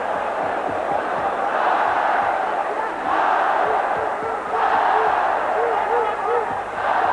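A boxing arena crowd in a Thai versus Mexican bout roars and shouts in waves as a fighter lands jabs, a dense, loud murmur with surges and a commentator talking over it.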